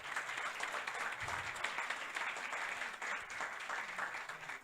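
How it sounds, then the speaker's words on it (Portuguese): An audience applauds a professor at a university event, sustained even clapping from many hands throughout. "aqui sim eu vou pedir uma especial salva de palmas ao nosso professor Marcelo Duval"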